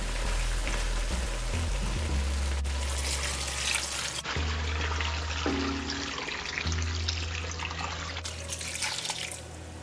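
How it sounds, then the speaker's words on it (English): Coconut milk poured into a pot of curry with eddoes, a continuous liquid pour and trickle with faint drips, close and fairly quiet, alone with no voices. "I'm going to add the coconut milk."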